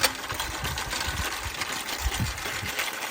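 A vintage Turfmaster 506A push reel mower rolls through grass, its spinning blades giving a steady whirring, clattering chatter with low thumps underneath, close and continuous.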